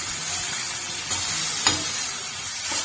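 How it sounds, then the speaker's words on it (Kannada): Raw mango frying in oil over a low flame for gojju, a steady soft sizzle, close and even, with a faint clink partway through and no talking. "ಸಣ್ಣ ಉರಿ ಒಳಗೆ ಇದು ಬಾಡಿಸ್ಬೇಕು ರೀ"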